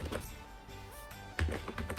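Computer keyboard typing while entering a web address into a browser, a soft run of quick clicky keystrokes close by, with a few firmer taps near the end.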